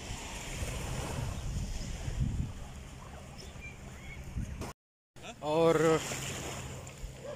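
Sea waves washing on the coast in Spain, a broad steady surf with wind noise buffeting the microphone, briefly cut out, with a voice speaking briefly near the end.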